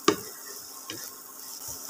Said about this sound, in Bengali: এবারে মাংসের সাথে ডিম খুব ভালোভাবে মিশিয়ে নিচ্ছি